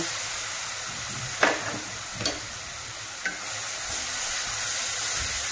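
Spices frying in hot oil with colocasia stem and jackfruit seeds, a steady sizzle punctuated by a few sharp utensil scrapes and knocks.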